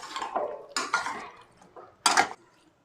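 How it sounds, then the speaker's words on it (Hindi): A spoon scrapes and stirs spices in a pan for galgal pickle, in three or four distinct scraping strokes separated by short pauses, close and fairly loud, with no talking. "तो मसालों को अच्छी तरह से मिक्स कर दिया है"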